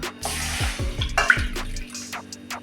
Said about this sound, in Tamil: ஸ்டவ்வில் கடாய் போட்டு கொஞ்சம் தண்ணி ஊற்றி